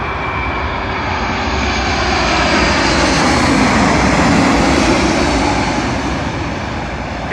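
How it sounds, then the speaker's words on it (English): An American Airlines Boeing 777 arriving from Philadelphia lands at London Heathrow runway 27L, its loud, continuous jet-engine roar swelling slightly and holding steady throughout, with no voices. "in now after like a 5-minute break is a Boeing 777 from Philadelphia to London Heathrow"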